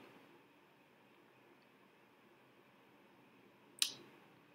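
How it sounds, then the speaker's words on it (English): One sharp computer mouse click sounds near the end, close and brief, in an otherwise quiet room with a faint background hiss. "I'm going to click on save."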